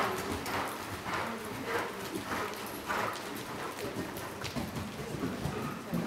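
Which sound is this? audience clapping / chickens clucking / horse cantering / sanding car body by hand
horse cantering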